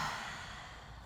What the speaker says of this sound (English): We're gonna open the mouth and take a vocal exhale.